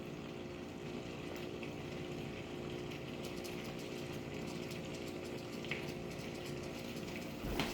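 Beef chuck roast browns in butter in a skillet over medium heat, a steady dense sizzle and crackle with scattered louder pops, continuous and close.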